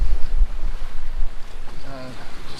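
Wind buffeting a sailboat sailing wing and wing off Bodrum, with heavy rumbling gusts on the microphone, close and loud, over water noise and a faint creak near the end.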